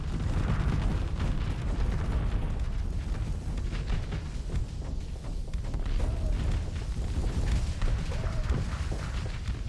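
Torpedoes and rockets launching in the space combat game Starsector, a dense, continuous barrage of booming thuds and crackling blasts with scattered whooshes, loud and unbroken throughout.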